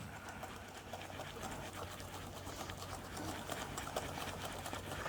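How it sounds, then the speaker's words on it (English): Eight large eggs and three-quarter cup of sugar are whipped together for eggnog, giving a steady, even whirring hum that continues unbroken with no voices. "Now I'm going to take that and we're going to mix that up."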